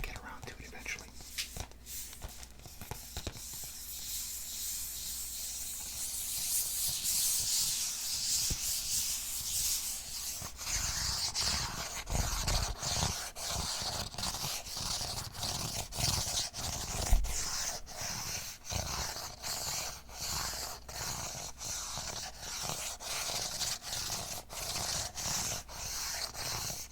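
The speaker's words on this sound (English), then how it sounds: "I love the sound that the disc makes." A Blu-ray disc from a Christopher Nolan collection is handled and rubbed up close, giving a steady soft scraping and rustling that grows louder partway through, with light taps and whisper-like breathiness.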